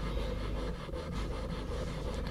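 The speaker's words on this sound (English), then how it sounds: "Next we're going to start sanding for the finish now." Coarse sandpaper rubs back and forth across an aluminium slingshot frame in close, steady scratchy strokes, with no talking.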